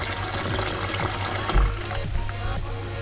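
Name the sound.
washing a leek in hot water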